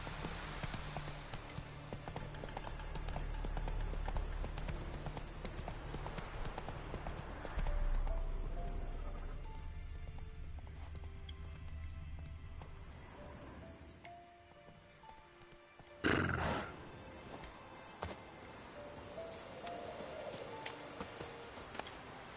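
A horse in The Witcher 3 clip-clops along at a steady pace across the ground, hooves clear against outdoor ambience, with a louder sudden burst near the end.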